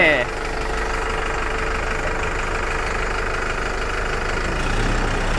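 A New Holland TS6020 tractor engine running steadily, a loud continuous diesel clatter and drone held close throughout, with people talking over it.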